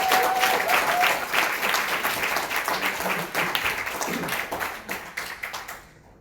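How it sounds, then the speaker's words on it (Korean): A crowd at an indoor gathering gives loud, dense applause to welcome a speaker, a sustained roar of many hands clapping that thins out and tapers off near the end. "큰 박수로 환영해 주시기 바랍니다."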